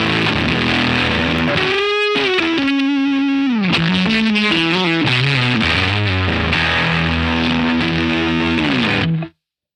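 Electric guitar played through an MXR Variac Fuzz (Super Badass Fuzz) pedal, set to mimic a dying battery, giving a loud, mid-heavy, gated, video-game-like fuzz tone across a continuous melodic run of notes that cuts off sharply at the end.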